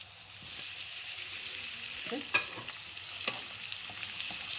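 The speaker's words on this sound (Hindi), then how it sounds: "जब हम गरम गरम ऑयल में और मसाले मिक्स में जब अदरक लहसुन डालते हैं" Ginger and garlic frying with spices in hot oil for a spicy chicken biryani, a steady soft sizzle with occasional stirring scrapes, close and fairly quiet with no talking.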